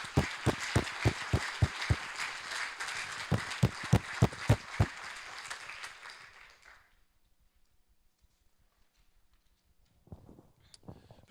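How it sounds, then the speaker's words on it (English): A lecture audience claps for about six seconds, the sharp scattered claps near and fairly loud before stopping abruptly, leaving near silence and then a brief sound at the end. "please join me in applauding their contribution"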